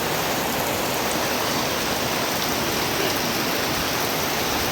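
A downpour falls outside a house, its constant close roar of drops on roofs and ground unbroken for the whole stretch, with nobody speaking.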